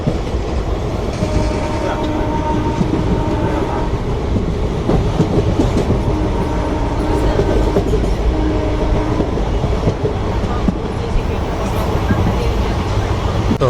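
A Secunderabad to Vijayawada passenger train runs steadily on its rails, with a loud continuous rumble and rhythmic wheel clatter heard from inside the carriage, and voices are audible in the background.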